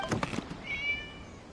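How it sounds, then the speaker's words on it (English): A cat in the video game Genshin Impact gives a single short, faint meow, heard near and alone after a brief thud. "It was just a cat."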